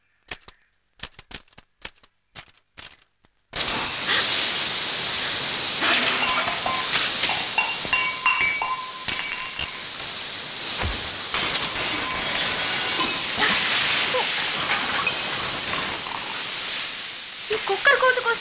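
Pressure cooker releasing a loud, sustained hiss of steam for over ten seconds, preceded by a few sharp clicking taps.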